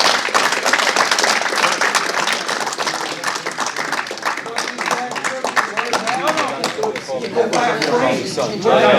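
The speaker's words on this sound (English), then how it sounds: "Let's give another big round of applause." Audience applause at an astronomy slam event, dense clapping filling the room for the whole stretch, loud and steady with some crowd chatter and cheering mixed in.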